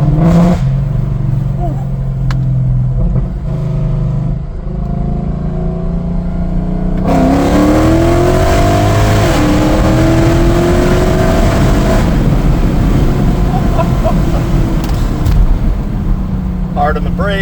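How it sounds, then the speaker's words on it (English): A 600 hp Mercedes E63 AMG daily driver roars hard as it drops gears and accelerates, the loud exhaust note climbing steadily through each gear for a sustained run, with a voice speaking over the engine. "Drop a couple gears, pick up some speed."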